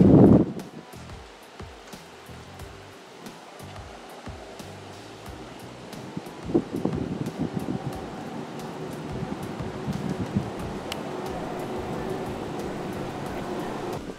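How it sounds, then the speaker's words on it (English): Wind gusting across an outdoor back deck at a community center in the Ozarks, a steady rushing roar that builds louder in the second half with buffeting bursts, no talking. "I got the wind in my face"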